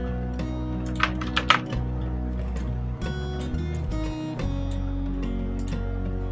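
Computer keyboard typing while working in Photoshop, a handful of quick soft key clicks scattered through the passage, partly buried under a loud steady drone of background music with sustained tones.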